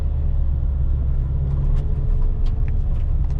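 A big lorry rumbles past on a narrow country road, a low, heavy, continuous engine drone heard up close from inside a car.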